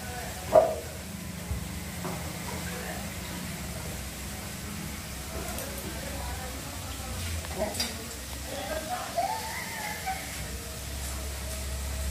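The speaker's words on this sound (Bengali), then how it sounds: "সবজিগুলো আগে একটু ভেজে নিচ্ছি" Vegetables frying in a pan before lentils go in, giving a low steady sizzle with occasional stirring scrapes and clinks, fairly quiet throughout.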